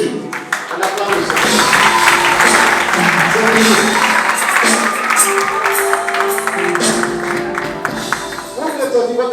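A church congregation applauds steadily, with a dense wash of clapping mixed with sustained music and voices throughout.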